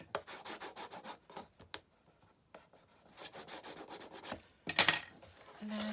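Burnishing a fold on a small card gift box, quick dry rubbing strokes in short bursts with pauses, close and faint, ending with a sharper scrape.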